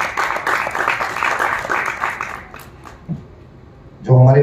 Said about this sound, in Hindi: एक बार जोरदार तालियां स्वाति जी के लिए।